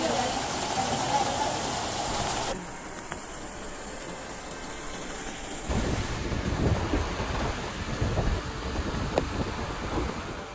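Heavy rain pours during a flooding storm in Murcia, Spain, a dense steady hiss with rumbling thunder and gusty wind noise, heard at a distance from the microphone with no voices.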